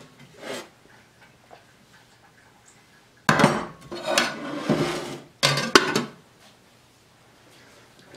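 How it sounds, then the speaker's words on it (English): A spoon scoops heaping tablespoons of Greek yogurt out of a container, giving short bursts of clinking and scraping against the side separated by near silence. "I'm going to take a few of these scoops of yogurt here"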